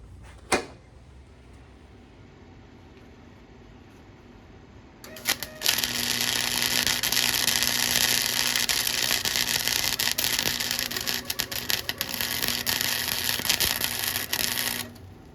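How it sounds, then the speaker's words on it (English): Arc welding on metal bursts in after a quiet stretch with a single sharp click: a loud, continuous crackling sizzle holds steady for about ten seconds up close. "I'm going to weld right here."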